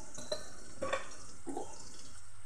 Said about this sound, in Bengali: আদা বাটা দিয়ে ভালো করে কষিয়ে নিচ্ছি